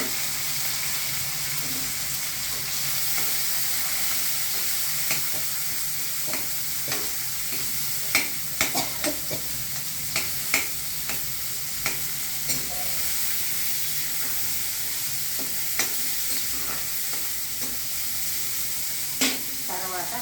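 Onion and green chilli frying in a pan, with a steady close sizzle and occasional sharp clicks of a spatula stirring against the metal.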